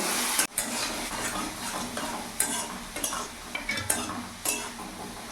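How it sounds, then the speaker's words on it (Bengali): Fenugreek greens stir-fry with potato and bori in hot oil, a constant crackling sizzle broken by repeated sharp scrapes and clanks of a spatula against the pan at an uneven rhythm, close and with no talking. "ভালো করে নাড়াচাড়া করে লাল লাল করে ভেজে তুলে নেব"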